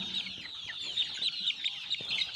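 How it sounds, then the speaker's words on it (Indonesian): Free-range village chickens cluck and chatter in a coop, several birds close by making steady overlapping calls with no voices. "kemudian dibuat kandang dan diisi dengan ayam kampung"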